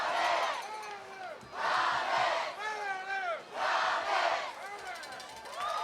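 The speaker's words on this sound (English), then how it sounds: "listen to the famed Comets chant" Clayton Comets fans chant in unison at a homecoming high school football game at Nixon Fowler Stadium, rhythmic bursts of many voices rising and falling in repeated phrases with short pauses between, loud and crowd-filled.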